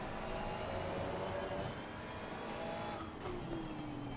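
Race cars roar continuously through a racing game set at the Hungaroring, with Porsches nearby; engine drone shifts pitch under braking and a rising tone near the end.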